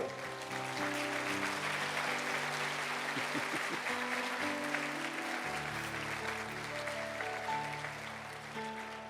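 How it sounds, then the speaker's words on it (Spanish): A congregation at a Spanish-language church service applauds steadily for around nine seconds, the clapping blended with sustained keyboard or organ chords playing underneath. "Dale un aplauso al Señor."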